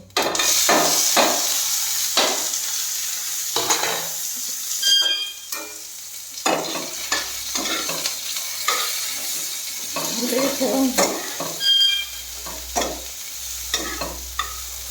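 Chopped onion and whole spices tempering in hot oil for masoor dal: a close, lively sizzle with frequent sharp spatula strikes and scrapes against the pan, irregular and fairly loud.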